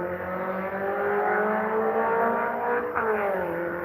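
A car speeds past fast, its engine note loud and sustained with a rising and falling pitch, alone with no talk.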